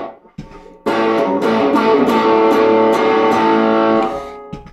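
An electric guitar plays through the distortion channel of a small gig rig, sounding one loud, sustained, gritty chord that rings for about three seconds and then fades, with a short quieter lead-in before it.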